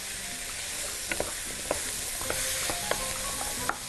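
Diced potato and pumpkin fry in a pot while a spoon stirs them, a steady sizzle broken by light, sharp scraping clicks of the utensil against the pot, close and without talk.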